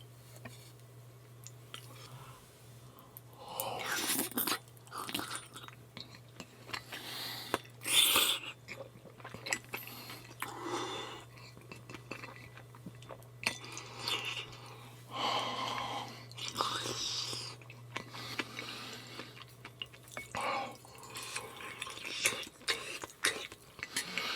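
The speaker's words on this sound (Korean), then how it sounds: "이번엔 떡이랑 만두랑 당면까지 올려서 먹어볼게요" Close, quiet eating of Korean rice cake and dumpling soup with glass noodles: soft chewing, slurps and occasional spoon and bowl clinks, repeated bursts with brief pauses.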